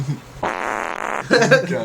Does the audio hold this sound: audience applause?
no